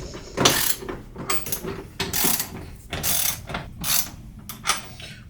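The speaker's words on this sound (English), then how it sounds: "Grab your torque wrench. Make sure it's set to 30 foot-pounds." A torque wrench set to 30 foot-pounds tightens the nuts on a C22 snow retention clamp fitted to a 1-inch snap lock metal roof, giving bursts of close ratcheting clicks in quick repeated strokes, with no talk.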